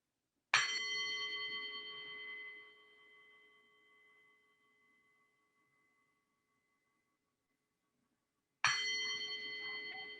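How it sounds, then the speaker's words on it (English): A meditation bell is struck once and rings out with a long, clear, slowly fading tone, then struck again near the end, resonant and alone. "we'll begin with the sound of the bell 3 times"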